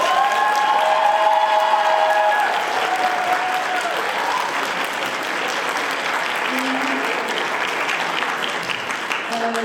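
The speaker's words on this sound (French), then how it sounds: "je voulais qu'on l'applaudisse très très fort" A large audience at a francophone debate competition final applauds loudly and continuously for Pierre, a sustained wall of clapping with scattered cheers and a few voices mixed in.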